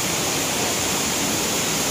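A river waterfall at a mountain resort in Oriental Mindoro pours in a steady, loud, close roar of rushing water with no break and no voices.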